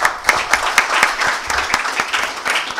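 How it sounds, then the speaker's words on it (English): Applause for a panel speaker at an international conference: a room of people clapping steadily, a few sharp claps standing out near the start, continuous and fairly close. "let's give him a round of applause"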